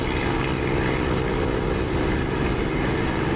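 A propeller warplane engine in the DCS flight simulator drones at steady reduced RPM and boost, a loud, even, rumbling roar with no voices.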